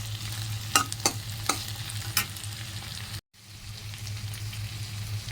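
Chopped garlic frying with vegetables in a pan, a continuous close sizzle broken by several scraping strokes of a spatula stirring, a brief dropout midway, then the sizzle continues steadily.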